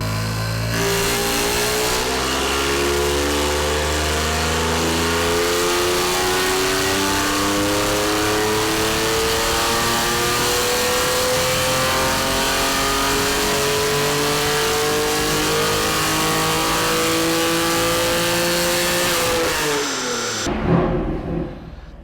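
A BMW M2 Competition engine runs on a dyno during a baseline pull. It revs loudly, and its pitch climbs steadily for about eighteen seconds before cutting off sharply into a brief low rumble.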